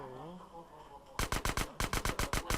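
Rapid bursts of gunfire from GTA San Andreas crack out in a fast, evenly spaced string of loud shots, coming after a stretch of talk by a voice.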